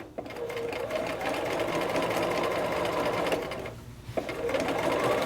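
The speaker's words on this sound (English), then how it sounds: "And now I'm just going to start stitching." A sewing machine stitches fabric for a raglan-sleeve garment, running in a steady continuous whir with a brief pause near the four-second mark before it resumes.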